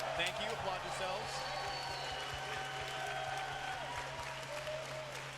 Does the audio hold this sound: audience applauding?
yes